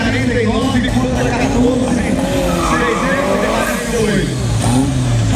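Turbocharged Volkswagen Fusca with a 2.0 engine at a drag race, loud engine roar and tire squeal running continuously close by, with a voice calling over it.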